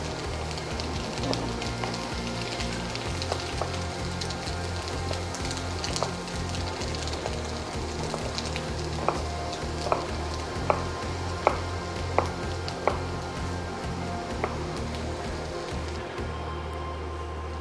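Minced tofu cooks in a pan with a steady, fine sizzle and crackle. Sharp clicks and taps rise now and then over a low hum, and there is no talk.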